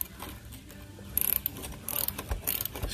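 A socket ratchet working on a bolt on a car, a few quick bursts of clicking pawl ticks with metallic handling noises in between, close and moderately quiet.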